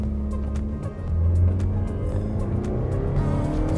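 A Mazda CX-50 with a naturally aspirated 2.5-liter engine accelerates at full throttle in Sport mode, a steady loud engine drone rising under road and tire noise, close and continuous without talk.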